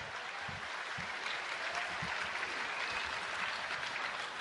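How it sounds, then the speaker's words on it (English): Applause from a boxing crowd at a Pinoy Pride fight night after a bout between Arthur Villanueva and Fernando Aguilar, a steady wash of distant clapping in a large arena, fairly faint and even throughout. "how about another round of applause for two great warriors?"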